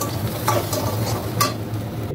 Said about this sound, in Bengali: আর একটু ভাজবো, কমপ্লিট না, আর একটু ভাজতে হবে।